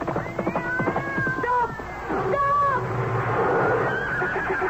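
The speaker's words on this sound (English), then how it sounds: "Then I saw my cat, Mew Mew." In a radio drama, a cat meows in drawn-out wavering cries and a horse neighs in shrill whinnies, both close and loud over a rumbling background, with a chariot scene around them.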